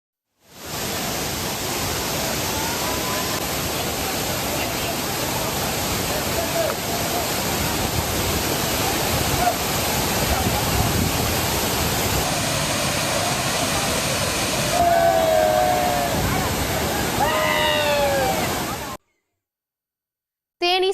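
Thirparappu waterfall rushes loudly after heavy rain, a dense, steady roar of falling water filling the scene before cutting off abruptly, with faint voices and a few bird calls near the end.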